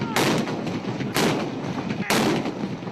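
Booming shots of a 21-gun artillery salute at a Pakistan Day ceremony in Lahore after dawn prayers: three loud, close blasts about a second apart, each with a long rumbling decay.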